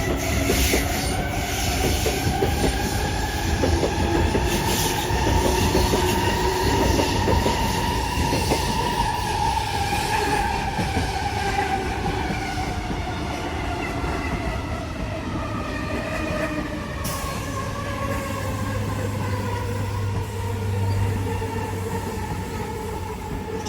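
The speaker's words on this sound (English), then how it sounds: "We decided it would be best to come to Mortdale right before the start of peak hour so we could see a whole heap of trains moving out of Mortdale Maintenance Centre" Several trains rolling out of Mortdale Maintenance Centre in Sydney before peak hour, a steady loud rumble with clickety-clack and long wheel squeals and tonal motor whine throughout, no talking.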